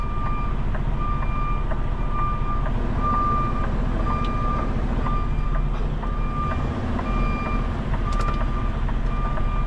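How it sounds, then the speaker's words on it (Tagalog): Steady reversing beeps from a truck repeat at an even pace over the loud, constant rumble of an idling engine near a border crossing, continuing throughout with no voices. "Ang ingay ng ano? Ingay ng atras."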